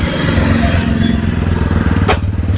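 Idling exhaust note of a 2025 TVS Apache RTR200 4V motorcycle, a loud, close, steady low thrum with a brief sharp burst near the end.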